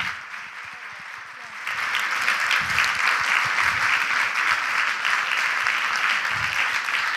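Audience at the Royal Albert Hall applauding four women on stage; the clapping starts lighter, then swells into a dense, sustained ovation with some voices mixed in.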